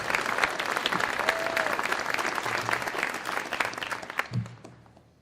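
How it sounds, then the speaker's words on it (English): An audience at an aviation maintenance technology class graduation ceremony breaks into sustained applause, a dense steady patter of many hands that holds for several seconds before tapering off near the end. "Round of applause, please"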